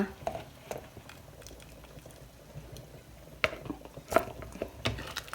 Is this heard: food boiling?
yes